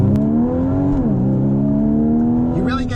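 Porsche Boxster GTS with a 3.4-liter naturally aspirated flat-six and sport exhaust in Sport Plus mode, engine holding a loud, steady drone, dipping briefly then rising again, with a voice speaking near the end.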